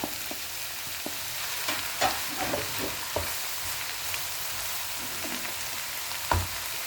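Zucchini joins vegetables already frying in a pan with tomatoes, a soft continuous sizzle punctuated by irregular stirring clicks and spoon taps, close up, no voices.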